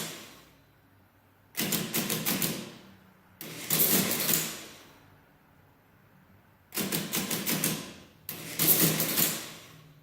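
Bursts of rapid mechanical key clacks and whirring crank action from a 10-key RC Allen mechanical calculator, a Facit EA clone, come in four separate runs, each followed by a short quiet pause; the keyboard is louder than the mechanism.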